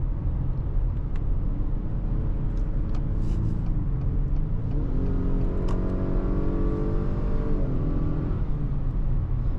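A 2025 Acura RDX with a 10-speed automatic accelerates uphill on a steep highway grade, its engine droning steadily from inside the cabin, rising in pitch, briefly settling, then climbing again over constant road rumble.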